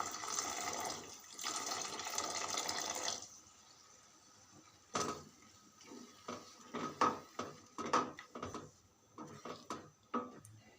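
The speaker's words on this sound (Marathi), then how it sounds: "पाणी घालताना आपल्याला एकदम थोडंसं पाणी घालायचे" A small amount of water poured onto peas in a pan makes a soft splashing pour for a few seconds, followed by a series of quiet clinks and taps of utensils.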